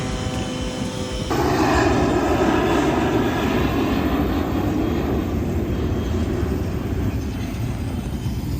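A Cessna 404 twin-engine plane drones in flight from Greenland toward Florida, a loud, steady, dense engine roar filling the cabin without a break, a thinner hum before it swells.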